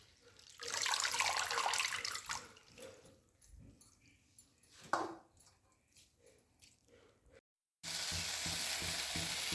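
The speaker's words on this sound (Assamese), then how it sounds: "এতিয়া মৰিচা ভাজি হৈ আছে" Food sizzles in hot oil, loud at first and then quieter with scattered pops. After a brief silent break, strong frying noise returns.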